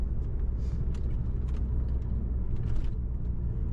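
A car engine rumbles steadily from inside the cabin, pulling up through first, second and third gears at low road speed, a continuous low drone with small surges and no talk over it.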